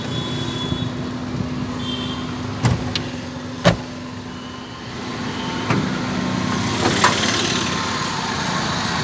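A used 2005 car idles with its hood open, giving a steady, even engine hum with a few sharp clicks and taps scattered over it, heard alone with no talking.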